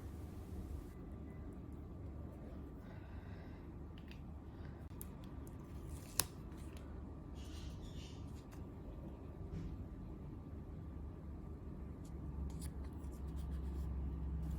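A gold paint pen writes on a sticker label, giving faint, quiet scratchy strokes in a hushed room, with one sharp click midway.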